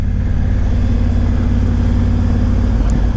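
Car exhaust rumbling steadily at low revs while driving slowly around a car park, a continuous close engine drone with no talking.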